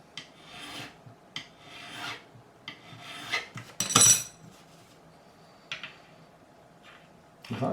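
A hand file scraping the frets of a Schecter Sun Valley Super Shredder guitar during freehand spot leveling, with short, separate rasping strokes spaced irregularly and close, separated by quiet pauses.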